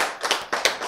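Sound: audience clapping

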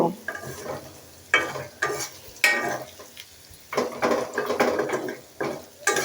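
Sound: frying in a pan

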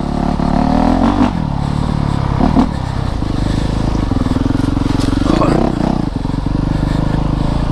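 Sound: 2019 Honda CRF450RX dirt bike accelerating through gears

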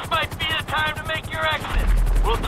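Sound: helicopter in the video game GTA V

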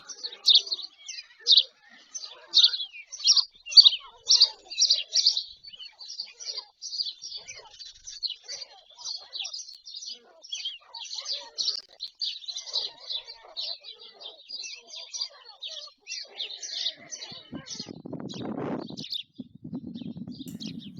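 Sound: bird chicks chirping

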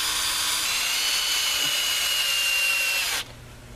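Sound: power drill driving a 2-inch lag screw

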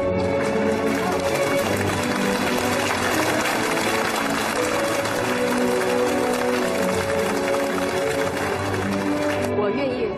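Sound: audience standing and applauding a teacher

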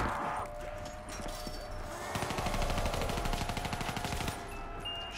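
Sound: shotgun firing at Hellpigs in a video game

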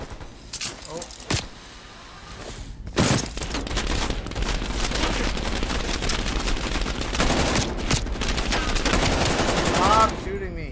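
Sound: gunfire in Call of Duty Black Ops video game

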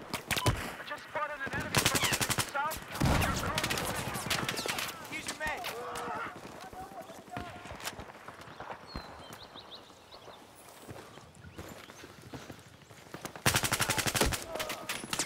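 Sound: gunfire in Battlefield 4 video game

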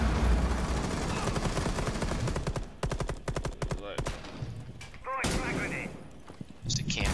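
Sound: gunfire in the video game Rainbow Six

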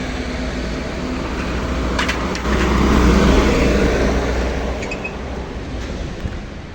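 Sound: motorbike riding away

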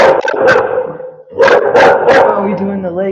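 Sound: dog barking

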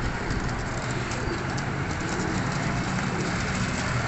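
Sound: golden pigeons cooing

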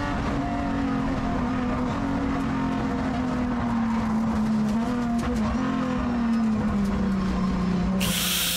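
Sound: NASCAR Brasil race car braking sideways on dirt while overtaking

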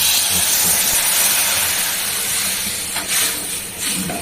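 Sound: hot water added to fried pointed gourd, hissing

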